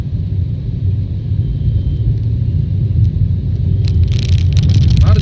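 A car revving hard and braking sharply, a steady heavy engine rumble with a brief scrape near the end, close by.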